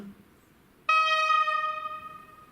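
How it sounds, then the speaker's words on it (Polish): A short, bright electronic horn tone sounds once abruptly after quiet, holding briefly then fading; an H0-scale model train's synthesized horn, close and clear, no talking. "Dziewiątka, taka trąbka."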